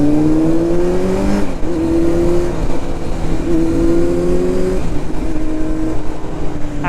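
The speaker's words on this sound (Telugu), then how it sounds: "ఈ ట్రాఫిక్ నాకు అలవాటు అయిపోయింది గైస్." Steady, loud road traffic in Hyderabad, heard from a moving motorcycle, with engine drone and rising revs layered over constant wind and road rumble.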